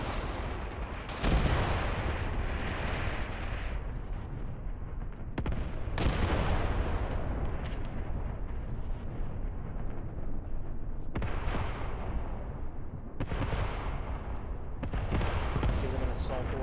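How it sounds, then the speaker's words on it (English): Mortar rounds landing on troops in the war game Graviteam Tactics, a string of heavy booming impacts every few seconds over continuous rumbling battlefield noise, loud and dense. "Looks like they do have some mortar fire that's landing on our troops here."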